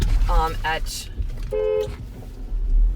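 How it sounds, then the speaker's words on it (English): A car horn sounds from inside a vehicle in traffic, given after another driver braked hard: a short toot near the start and a steady horn blast around the middle, with someone talking before and after over road noise. "I had to give someone the horn who just slammed on brakes"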